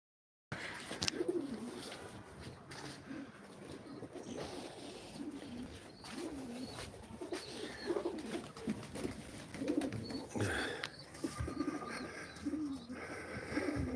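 Pigeons at a live pigeon auction of tumbler play birds, cooing and fluttering close by through a busy, continuous mix of calls and wing movement, with bursts of louder activity around the middle.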